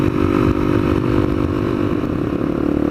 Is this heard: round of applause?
no